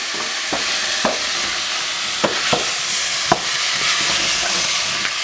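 Courgettes and onions sweating in oil in a pan, a steady soft sizzle with a few sharp clicks and knocks of stirring, close and continuous, no talk.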